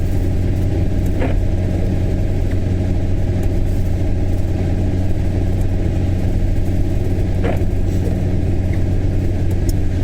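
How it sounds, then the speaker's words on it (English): A bus follows a car on the M9 motorway in the Falkirk district of Scotland. It gives a constant heavy engine hum and tyre rumble from inside the vehicle, with a couple of faint brief clicks and no talking. "It's a bus."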